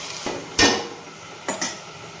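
Two sharp bursts of a spoon scraping and knocking in a pan as chopped onions and green chillies are stirred into a drumstick and tomato curry, each clatter short and close, with quiet between and no talk.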